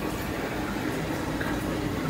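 Water pours steadily into a cooking pot in a home kitchen, a dense, continuous splashing rush that stays loud and even throughout the short stretch with no voices.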